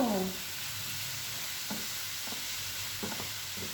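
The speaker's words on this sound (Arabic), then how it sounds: "نحركوها مزيان، خليها تتشحر غير واحد شويه" Rice with olives being stirred and fried in a pan, a steady low sizzle under a few soft scrapes and knocks of the spoon, close and fairly quiet, no talking.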